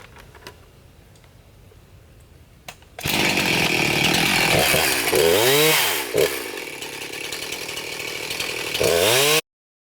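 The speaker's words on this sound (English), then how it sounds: "I'm not pushing on the saw, I'm really just letting the whole weight of the saw take itself down" A chainsaw cuts old wooden stakes into firewood: after a few quiet seconds it roars up close and loud, holding a steady high whine with repeated dips and rises in pitch as it bites through the wood.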